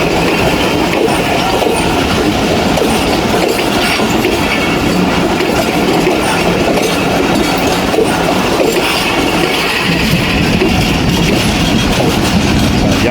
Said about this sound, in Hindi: 110 पार्लर कार है ये पुरानी।